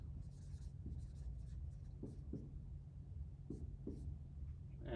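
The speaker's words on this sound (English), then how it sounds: "Let me just write this formally." Pen or marker scratches out short strokes of handwriting, faint and irregular over a steady low hum.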